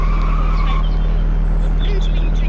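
Drift truck sliding in the Cindy Car Drive video game, with loud tire squeal and a revving engine over a constant low drone for a couple of seconds.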